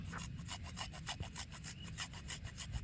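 A piece of ginger rubbed against a grater in a village kitchen gives a quiet, close, rhythmic rasping scrape, repeated in quick regular strokes of about four per second, with no talk.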